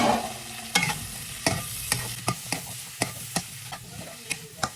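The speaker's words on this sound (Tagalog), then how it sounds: "Tapos, igisa rin natin yung ating broccoli." Broccoli and sweet peas being sautéed in a pan for beef chop suey, with a continuous sizzle under a regular series of crisp spatula taps and scrapes, close and fairly loud.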